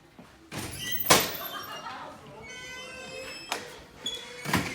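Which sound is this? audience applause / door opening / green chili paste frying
door opening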